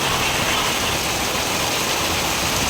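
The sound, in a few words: heavy rain falling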